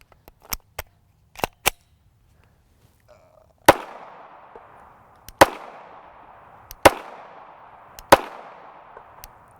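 A Palmetto State Armory Dagger 9mm pistol with a 4.5-inch threaded barrel fires Black Hills 115-grain Tac-XP rounds: four loud, sharp shots with echoing tails, spaced about 1.5 seconds apart, after a few faint clicks and taps.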